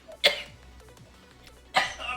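Two sharp coughs close by, spaced about a second and a half apart, with faint background noise between them.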